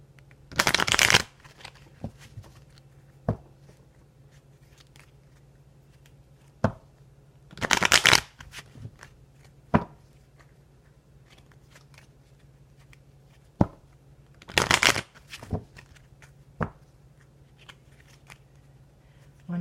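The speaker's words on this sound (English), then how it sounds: "I want to get a good shuffle in here." Lenormand cards are riffled and shuffled in three short bursts, separated by quiet pauses with a few soft taps and clicks between them.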